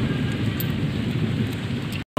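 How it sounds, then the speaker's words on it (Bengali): Steady heavy rain pours over a garden with a low rolling rumble of thunder beneath it, continuous and fairly loud, cutting off abruptly at the end. "ওই তো মেঘ ডাকছে না, কেমন করে মেঘটা কেমন করে ডাকছে"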